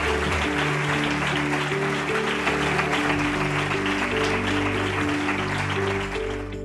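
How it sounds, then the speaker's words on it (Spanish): An audience applauds at the Andalucía awards ceremony as a prize is presented, a steady hiss of clapping from a large crowd, moderately loud and continuous, with a low sustained musical tone running beneath it. "Un fuerte aplauso para ella."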